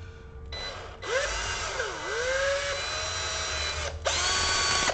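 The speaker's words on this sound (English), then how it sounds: "So we're going to drill in" Power drill driving screws to mount cheap DIY LED lighting on a workbench, a loud whining motor that sweeps up and down in pitch across two long bursts with a brief pause between them, no voices.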